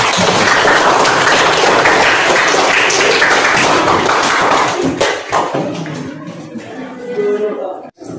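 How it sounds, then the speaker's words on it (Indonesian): Students in a classroom clap loudly together in a dense, close burst that fades after several seconds, with voices rising as it dies away. "Tepuk tangan"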